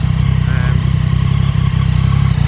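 A Yamaha MT-09 Tracer (2015 model year) motorcycle engine idles steadily close by, a loud, even low rumble with light mechanical clatter throughout, no talking.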